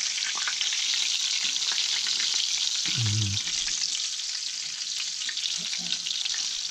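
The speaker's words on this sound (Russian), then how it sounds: "Итак, наши чебаки поджарились." Chebak fish sizzling steadily in a frying pan, a dense continuous crackle with a brief low clatter near the middle, no voices over it.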